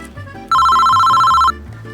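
A telephone rings loudly with one steady electronic tone lasting about a second, standing alone over a quieter background.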